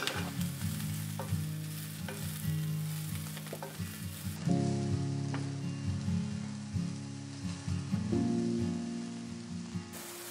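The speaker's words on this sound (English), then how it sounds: "King oyster mushroom. Saute for 1 to 2 minutes." King oyster mushroom sautéing in a pan for vegetable chow fun, a loud continuous close sizzle that swells midway as the pan is stirred, with occasional scrapes and taps.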